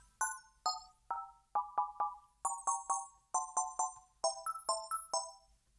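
A bright synthesizer line bent by a metal effect in a Sugar Plum Fairy remix: short plucked, bell-like notes with metallic overtones, each decaying quickly, quiet and without talking.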